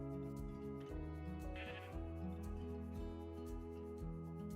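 Sheep bleat repeatedly in Minecraft 1.21, a string of short game-sound bleats layered over steady background music, with no talking.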